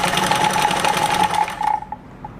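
A Kenmore 1341 sewing machine runs a box stitch with the top tension set low. The motor hum is steady and close, with a rapid rhythmic needle chatter that slows and stops near the end.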